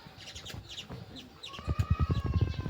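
Two sparrows in a village tree chirping in quick bright bursts, sparse at first and then a louder rapid run of chirps close by, with a voice faintly underneath.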